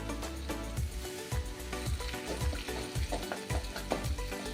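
Cumin frying in ghee with a pinch of asafoetida for a Ratha Yatra offering: a steady sizzle under regular scraping strokes from stirring, about two per second, fairly close and moderately loud.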